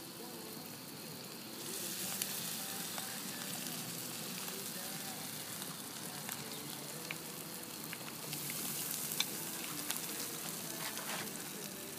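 Steady crackling sizzle of smallmouth bass frying in a hot pan at a shore lunch, continuous and close, with occasional louder pops and spits.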